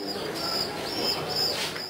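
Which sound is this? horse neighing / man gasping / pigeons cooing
pigeons cooing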